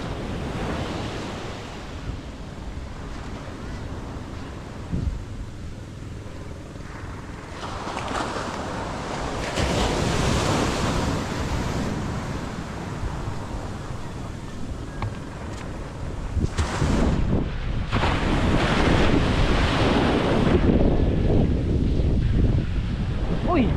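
Ocean waves surge and wash in broad rushing swells, with wind buffeting the microphone; a voice briefly calls out among the roar.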